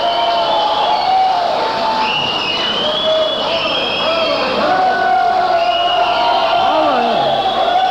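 Live crowd at a 1984 rockabilly concert in Bristol cheers, whistles and shouts continuously, with loud whoops rising over a steady roar of audience noise; a voice calls out over the crowd.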